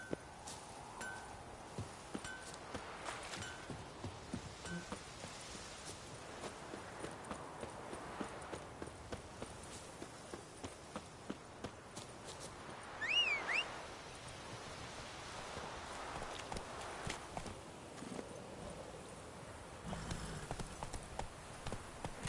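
Roach, a horse in The Witcher 3 game, trotting with steady, rhythmic hoof clip-clops throughout, fairly faint, over a low ambient background.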